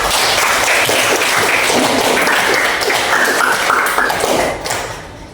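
Applause for a class in a microteaching lesson on food additives and borax testing, a loud, continuous patter of clapping in a room that tapers off near the end.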